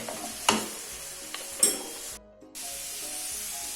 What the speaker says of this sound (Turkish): Şimdi kırmızı pancarlarımızı ekleyebiliriz. Ve bunları da karıştıralım.